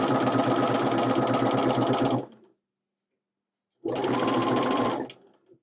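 A sewing machine running a narrow hemmer foot, with fabric wrapped around the sewer's finger, whirs steadily and loudly for about two seconds, falls silent, then runs again in a shorter burst close up.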